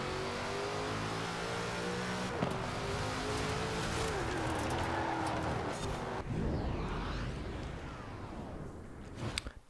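A supercharged 5-liter V8 in Forza Horizon 4 revs hard, climbing through repeated acceleration sweeps and gear changes, loud and close, with a brief lull near the end.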